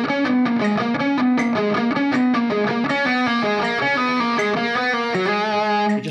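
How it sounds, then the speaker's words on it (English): A distorted electric guitar plays a repeating pattern of five as rapid sixteenth notes, steady and syncopated, loud and continuous with no talking. "If I play his repeating pattern of five as 16th notes"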